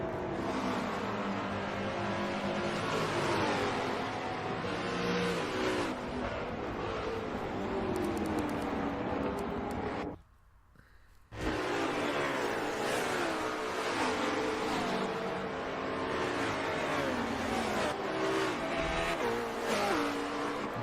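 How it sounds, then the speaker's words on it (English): GT4 race cars lapping Watkins Glen in a racing video game, engines roaring continuously with shifting revs and occasional tire noise, cutting out briefly to near silence midway before resuming at full volume. "Monkhouse is looking for 7th, but MXR Weasel is a fast car"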